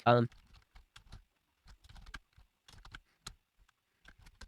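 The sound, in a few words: typing an essay on a computer keyboard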